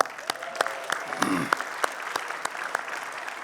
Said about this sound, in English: How about another round of applause for Orange Appeal?